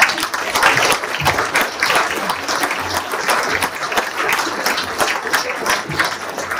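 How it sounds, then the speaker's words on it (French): Sustained, dense applause from a large crowd at a New Year's greetings ceremony, steady and loud throughout with no pauses. "On peut les applaudir."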